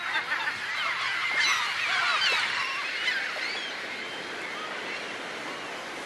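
Herring gulls call over a steady, loud wash of background noise, their harsh cries rising in a cluster near the middle and carrying on more faintly, with no voices present.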